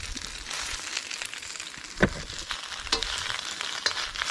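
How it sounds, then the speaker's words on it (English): Greens sizzle in a hot oiled pan for a vegetable chow mein stir fry, a steady close crackling hiss with a few sharper pops and clinks of stirring, with no talking. "So we're going to saute our green."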